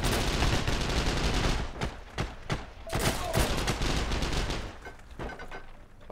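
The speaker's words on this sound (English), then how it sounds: "Alright, that was a sick grenade." Gunfire and explosions in the video game Heroes & Generals, with dense rapid bursts and loud cracks filling the whole stretch before tapering off.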